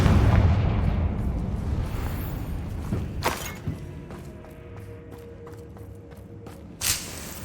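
Confringo fire spell blasts in Hogwarts Legacy inside a mine: a dense rumbling roar at first, then sharp booming bursts near the middle and again near the end, each fading back into a low crackling rumble.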